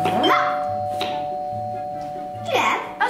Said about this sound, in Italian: Ha suonato il campanello.